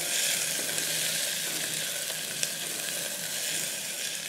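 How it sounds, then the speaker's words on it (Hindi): Roughly chopped onion cooking in hot oil in a pan, giving a steady, close sizzle with a soft crackle throughout and one brief louder pop, no talking. "जस्ट इस प्याज को हम 1 मिनट तक पकाएंगे ताकि ये थोड़ी सी सॉफ्ट हो जाए"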